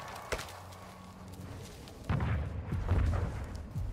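Sniper and battle gunfire in Call of Duty: Modern Warfare II, a sharp early shot followed by heavier booming bursts and thuds, loud and close.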